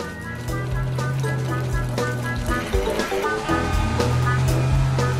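Water spraying onto a red car at a cartoon car wash, a steady watery rush and patter that continues throughout, with light musical tones layered over it.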